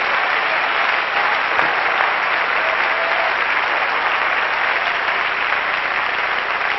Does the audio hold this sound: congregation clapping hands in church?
yes